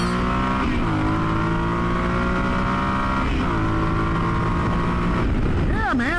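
Yamaha Super Tenere 1200 adventure motorcycle pulling hard through the gears, a loud close engine drone rising in pitch with two clear shift dips, wind rush underneath and a rider's voice at times.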